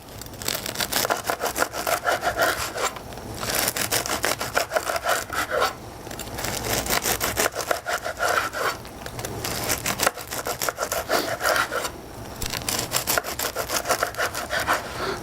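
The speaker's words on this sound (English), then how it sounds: "And we're going to cut slices about 1/3 of an inch thick." Serrated knife sawing through a crusty ciabatta loaf, cutting slices about a third of an inch thick: a close, loud, rhythmic rasping of back-and-forth strokes with brief pauses between slices, and no talking.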